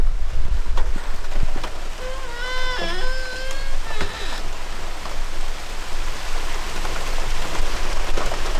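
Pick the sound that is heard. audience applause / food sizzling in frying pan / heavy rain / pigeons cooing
heavy rain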